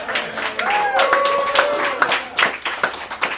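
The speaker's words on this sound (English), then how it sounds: "big round of applause for our volunteers." Applause for volunteers at an improv comedy show, a crowd clapping in uneven bursts with a whistle and cheers rising above it, while voices carry over the clapping.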